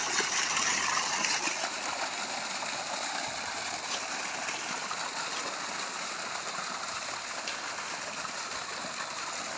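Clear water from a borewell on farmland runs out at about 2 to 2.5 inches, a steady close rushing gush with a faint mechanical hum underneath throughout.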